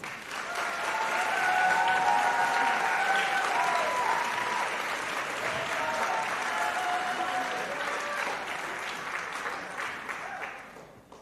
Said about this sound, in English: Please give them a nice, warm round of applause.